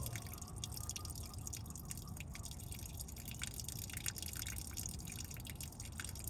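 Water drains from a drain plug on a 1951 Case VAC tractor during a fluid change, a steady close splashing and dripping stream that continues without pause.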